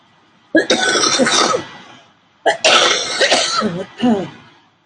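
Two bursts of harsh, loud coughing and throat clearing from a person who has had a cold for days, close to the mic, with a short pause between fits and no speech.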